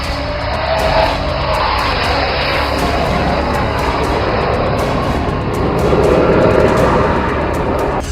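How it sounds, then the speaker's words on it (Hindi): A fighter jet taking off from a 500-metre short airstrip in Assam makes a loud, continuous roar that swells slightly and stays steady throughout. "500 मीटर की शॉर्ट स्ट्रिप पर फाइटर जेट की उड़ान कल की नहीं, आज के युद्ध की तैयारी है"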